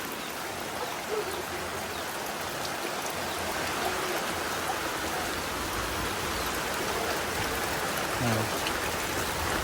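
Heavy rain pours steadily during a thunderstorm, a dense, continuous hiss of water on surfaces filling the whole clip, with no talk over it.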